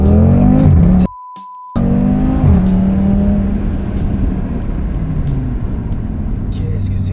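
An Audi RS3 with its exhaust valves held open revs and accelerates loudly up close, the engine note climbing in pitch before a brief cut and then settling into a steady rumble. Talk occurs alongside it.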